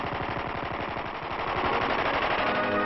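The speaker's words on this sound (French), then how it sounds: "cette scène où le président Kruger essaye en Angleterre une mitrailleuse" A machine gun being test-fired in England in archival film, heard as a dense, continuous rapid rattle of bursts at steady loudness throughout, with no voices.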